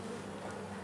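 Honey bees hum at a hive entrance with many dead bees lying out front, a dense, continuous buzzing swarm close by with no voices.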